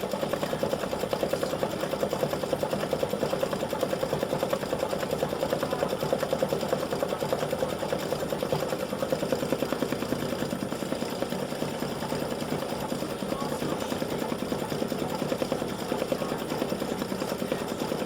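An embroidery machine stitches a flip flop applique design with a fast, even mechanical whir and rapid needle chatter, holding steady and fairly quiet throughout.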